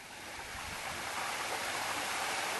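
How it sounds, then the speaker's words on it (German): Rotating high-pressure water nozzle driven forward through a sewer pipe by a combined flushing and suction truck, giving a steady loud rushing, hissing water roar that swells slightly and continues without break. "Die Rotationsdüse bewegt sich mit Wasserdruck durch die Kanalisation vorwärts."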